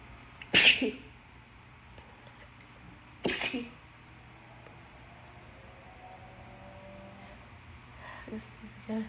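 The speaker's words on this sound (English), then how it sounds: "I'm gonna sneeze." Two sharp, loud sneezes from one person a few seconds apart, each a sudden burst that fades quickly, followed by a quieter stretch with faint breathy sounds near the end.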